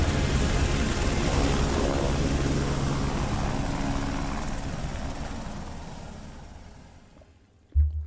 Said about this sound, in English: Those helicopters aren't after us anymore.